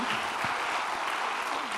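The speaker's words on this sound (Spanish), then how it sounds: "Vamos a tributarle al Señor un aplauso porque Él ha sido bueno" Church congregation applauds during a sermon, a steady, full round of clapping filling the room without pause.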